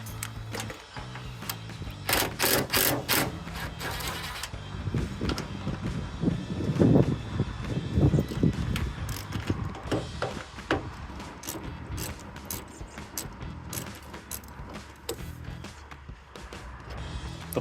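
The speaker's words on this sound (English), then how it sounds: "We're gonna start by taking the bolts out of the mud flap, as well as the back here." Bolts being backed out of a mud flap on a 2009-2014 Ford F-150 with a ratchet and 10mm socket, a steady run of close clicking ratchet strokes and metallic rattles lasting throughout.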